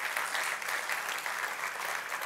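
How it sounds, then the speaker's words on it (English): A church congregation claps steadily throughout, a dense, even wash of applause from many hands in a large room. "Oh, but the applause is going to get quiet now."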